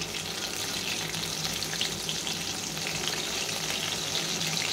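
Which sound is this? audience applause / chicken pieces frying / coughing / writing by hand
chicken pieces frying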